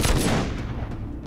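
Gunfire in the video game Too Human: a rapid burst of heavy booming shots with a rumbling tail, followed by a few fainter repeated reports.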